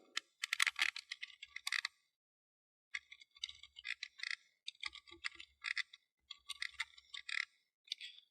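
Someone types a command on a computer keyboard in short, uneven bursts of crisp key clicks, close and quiet, pausing briefly between words.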